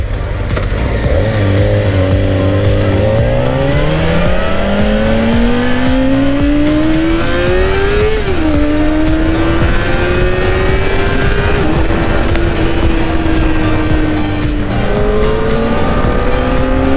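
A Kawasaki Ninja ZX-4RR motorcycle is ridden hard, its high-revving engine climbing steadily through the gears with sharp shifts. The engine note is loud, close and continuous, with no talking over it.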